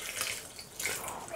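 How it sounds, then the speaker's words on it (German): A splash of water is poured into a sweet potato pasta sauce, a brief soft gurgling pour heard close and quiet, with no talk over it. "Ich gebe jetzt noch einen Schluck Wasser hinzu"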